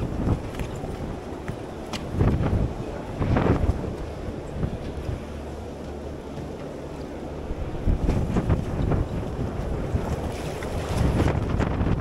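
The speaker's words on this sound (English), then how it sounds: "I saw a wind gust up to 60 knots." Strong wind gusts up to 60 knots buffet a moored sailboat in a harbor, loud roaring bursts of wind noise rising and falling over lapping water.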